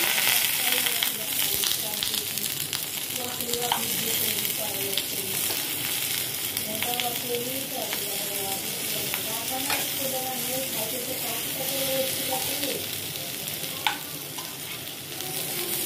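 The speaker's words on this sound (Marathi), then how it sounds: "आता हे सगळं आपल्याला छान असं बारीक गॅसवरती ठेवून घ्यायचं आणि मस्त आपल्याला छान असं तेलामध्ये मस्तपैकी आपल्याला एक साईड छान अशी क्रिस्पी करून घ्यायची आहे" Paneer slices fry in oil in a pan over low heat, a steady close sizzle running throughout with scattered crackles and faint voice-like tones in the background.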